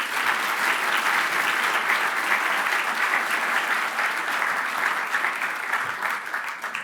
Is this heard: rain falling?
no